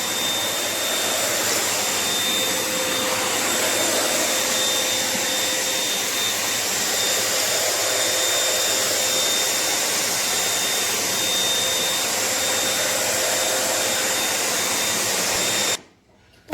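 A Eureka Forbes vacuum cleaner roars steadily while cleaning a carpet, a loud, constant whine that runs unbroken for about fifteen seconds before cutting off.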